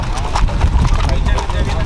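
Horses' hooves clip-clop on a street during a rural anniversary parade in Llera, Tamaulipas, a busy continuous patter of many hooves mixed with crowd noise and people talking nearby.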